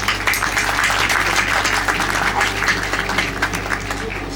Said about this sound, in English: Please, a big round of applause for CSF team.